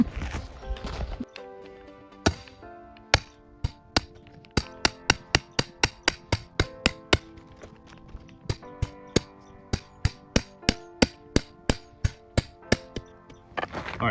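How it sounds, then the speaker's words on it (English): A hammer drives wooden stakes into the ground with sharp, ringing knocks, about twenty blows in a steady rhythm that speeds up in the middle, loud and close. "And get a bigger hammer."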